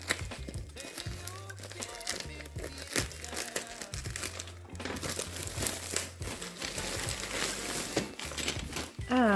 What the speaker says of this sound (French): J'adore trop ouvrir les paquets comme ça, franchement.